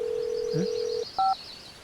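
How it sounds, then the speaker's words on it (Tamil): Telephone dialing to an emergency ambulance number: a steady dial tone holds for about a second, then breaks off, followed by a single short touch-tone keypad beep, fairly quiet and close. "மிஸ் கால் கொடுத்துருக்கேன்"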